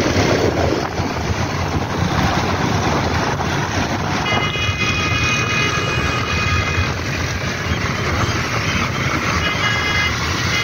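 A hybrid electric car with 2000 W BLDC hub motors carrying four people at speed on a road in Pakistan; a loud, continuous rush of wind and road noise with a faint steady whine partway through.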